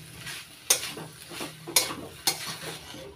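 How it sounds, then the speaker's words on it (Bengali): A spoon stirs garam masala into banana flower curry in a pan, scraping and tapping the metal in three crisp knocks amid a steady soft sizzle, close and without talk. "এবার গরম মশলার গুঁড়ো মোচার ঘন্টর সঙ্গে নাড়াচাড়া করে মিশিয়ে নিচ্ছি।"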